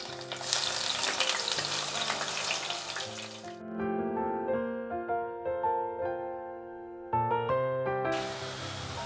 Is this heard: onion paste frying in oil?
yes